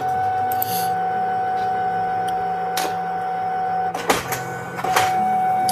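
A home printer prints with a steady mechanical whir and hum, broken by sharp clicks and paper-feed rattles as it runs nearby.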